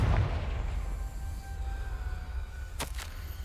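A Confringo explosion spell from Hogwarts Legacy fires with a loud low boom at the start, then a rumbling tail under steady background music, and a sharp crackling burst lands near the end.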